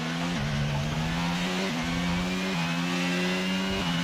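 Formula 1 cars racing through Monaco in the F1 22 video game, a loud close engine whining steadily at high revs with quick dips and climbs as gears shift, continuous and without talk.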